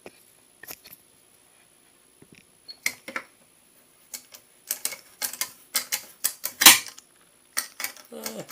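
Screws being driven by hand into a Windows XP gaming computer with an SLI Nvidia setup, heard as a string of sharp close clicks and ratcheting ticks in irregular bursts, with no talk.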